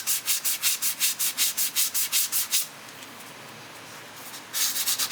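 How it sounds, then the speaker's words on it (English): Sheets of 1000 grit sandpaper polish the frets of a seven-string Les Paul style guitar in quick, rhythmic strokes, about a dozen close scratchy rubs, then a brief pause before the rubbing resumes. "trying to do the sandpaper fret polishing this time instead of the rubbers"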